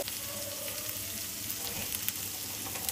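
Whole spices, including black peppercorns, cumin and fennel seeds, sizzle in hot oil for chicken biryani, making a continuous fine hiss with small crackles and pops and no voices.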